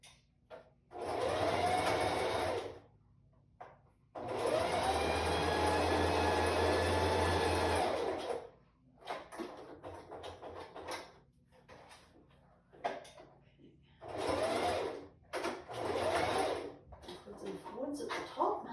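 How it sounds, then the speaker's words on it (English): A sewing machine stitches boning into a strapless bra in bursts of rapid mechanical whirring, several seconds long with pauses between, as a voice talks quietly during the gaps. "And we will sew the boning in without the channeling in"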